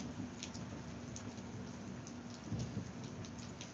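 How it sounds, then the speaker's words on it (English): Steady rain patters on a surface, a dense continuous hiss with a low thunder rumble rolling underneath, recorded up close and without any voices. "did you hear the thunder?"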